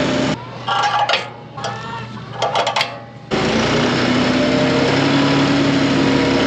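A tractor engine runs steadily with a droning hum, briefly dipping and sputtering before settling into a constant, loud idle.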